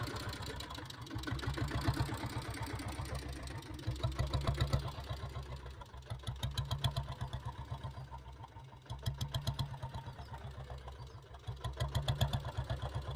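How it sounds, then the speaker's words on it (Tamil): Diesel Royal Enfield Bullet motorcycle idling, a steady low thumping beat from the engine that swells and eases slightly in volume throughout, heard up close with no talking. "வண்டி பீட் சவுண்ட்லாம் சூப்பராக இருக்கும்."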